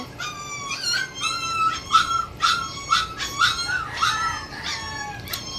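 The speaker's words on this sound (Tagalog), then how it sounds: "ang ingay ng mga aso. Naririnig niyo ba?" Several dogs bark and howl in a rapid, overlapping chorus, high yelping tones repeating steadily at moderate distance with no talking.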